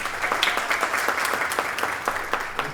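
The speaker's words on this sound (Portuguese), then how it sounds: "Pode aplaudir, gente." An audience at the opening panel of a summer school event applauding the event coordinator; steady, moderately dense clapping with distinct individual claps, continuous and unbroken.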